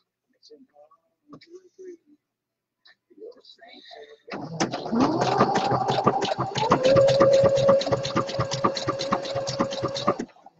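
A sewing machine stitches a lycra jockstrap pouch, starting after a few seconds of faint handling noises and then running in a steady, rapid, close whirring rhythm for about six seconds before stopping.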